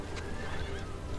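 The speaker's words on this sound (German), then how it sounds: "Und meine Pferde sterben sofort." Horses whinny amid a battle in the strategy video game Battle for Middle-earth. A loud, close neigh rises over a dense, noisy mix with faint hoof clatter.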